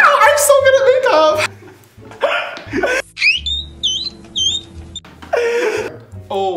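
A makeup timer alarm goes off between stretches of talk, giving a few quick, high, chirping electronic beeps in a repeating pattern.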